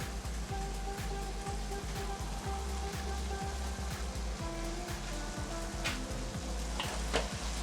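Ackee sizzling steadily in a frying pan with black pepper, a continuous crackling fry with faint clicks and no talking.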